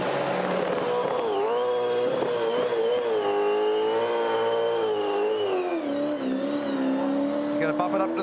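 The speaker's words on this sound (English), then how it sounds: "Soft tyres on the back of car number 97. It's smoke signals at Sydney Olympic Park." A Supercars race car, number 97, on soft rear tyres does a burnout at Sydney Olympic Park, its engine holding a loud, sustained revving howl that rises and falls in pitch throughout, with a commentator talking over it.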